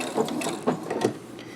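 A sewing machine stitches an applique in short mechanical bursts, a few quick whirring pulses close by with brief pauses between them.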